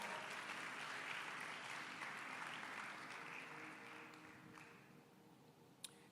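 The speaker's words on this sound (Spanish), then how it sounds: "denle un fuerte aplauso a la palabra del Señor" A church congregation gives loud applause during a Spanish-language sermon, steady, fairly distant clapping from many people that gradually thins out near the end.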